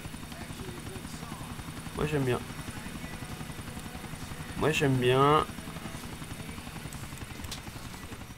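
Helicopter in the video game GTA 4, a steady rapid rotor chop throughout, with someone briefly speaking twice over it.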